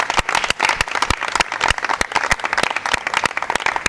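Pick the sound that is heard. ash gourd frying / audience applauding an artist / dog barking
audience applauding an artist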